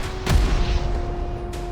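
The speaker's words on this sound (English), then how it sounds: "It's just like a cluster of rockets." A cluster of rockets fires from a weapon in the sci-fi shooter game Scathe, giving a sharp loud burst followed by a rumbling blast that decays, with a second crack near the end and a steady tonal hum underneath.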